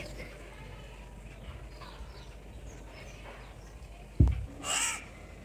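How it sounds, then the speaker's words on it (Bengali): A crow caws in a village setting, a short burst of calls near the end over a steady low ambient background, with a sharp thump just before. "কাক ডাকতেছে বসে বসে"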